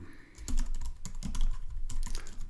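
Typing on a computer keyboard, a fast run of close, crisp key clicks in uneven bursts with no voices over them.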